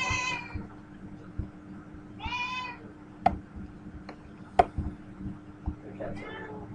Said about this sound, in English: the cats are just saying